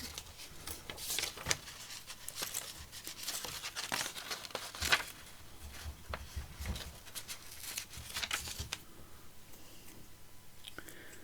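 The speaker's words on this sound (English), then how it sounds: "That probably needs to be torn a little bit more." Journal pages being torn by hand, a series of short, close crinkling rips and crumples in irregular bursts, fairly quiet, with small pauses between tears.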